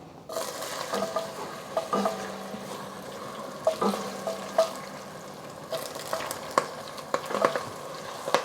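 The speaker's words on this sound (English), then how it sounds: "once the sugar is all melted, there's still a little bit left, and we don't want it to burn. We're going to add our ginger and our onions" Ginger and onions sizzle steadily in melted sugar for Chinese Lion's Head meatballs, with a constant frying hiss broken by repeated sharp scrapes and clinks of stirring, close and fairly loud, with no talking.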